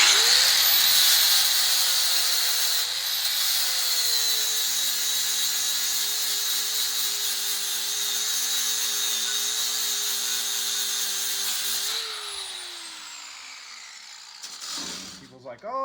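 A power grinder works on metal on a 1951 Chevy three-window truck part, a loud sustained whine that holds steady for about twelve seconds, then winds down and stops.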